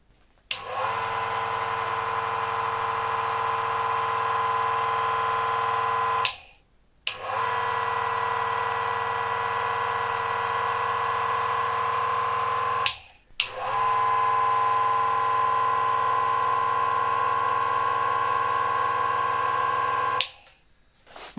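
An SEK electric motor in a Światowit washing machine runs with a steady, loud whirring hum in three long stretches, each cut by a brief silent stop, with no talking.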